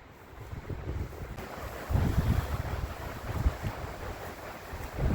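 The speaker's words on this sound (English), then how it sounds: "So we got some wind today, and it's about 35 miles an hour" Strong wind of about 35 miles an hour buffets the microphone outdoors, a rough, gusting low roar that swells and eases, with no talking.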